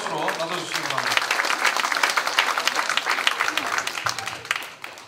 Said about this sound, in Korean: 여러분 뜨거운 환영의 박수로 맞아주시기 바랍니다